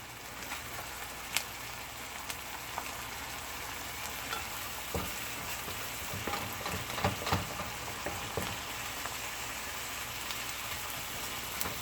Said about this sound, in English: Kind of let that sizzle.